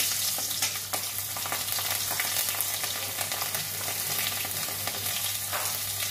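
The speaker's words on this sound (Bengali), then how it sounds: "সরষের তেল, কাঁচা লঙ্কা, শুকনো লঙ্কা ফোড়ন" Dry and green chilies tempering in hot mustard oil: a steady, bright crackling sizzle close up, with faint stirring under it and no talk.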